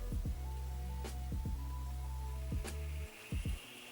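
A steady low hum from a coil on a Microlab PSU 360W power supply board continues throughout, broken by several sharp clicks and taps, before cutting out abruptly near the end.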